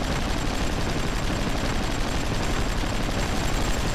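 A mortar fires in the vehicle combat game Hard Truck: Apocalypse, a dense, continuous roar of loud blasts and explosive noise with no pauses.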